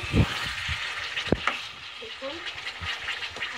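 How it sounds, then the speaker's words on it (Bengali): Chicken pieces for chicken afgani sizzle and are stirred in a pan over a high flame, with spatula scrapes and knocks against the metal over a steady frying hiss, and someone speaks briefly nearby. "এবার ফ্লেম হাই থাকবে বারবার নাড়তে হবে"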